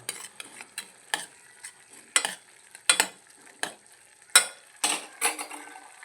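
Onions fry in a pan for egg curry, heard as a series of sharp scraping stirs and clinks at an uneven pace over a faint sizzle, close by with no talk.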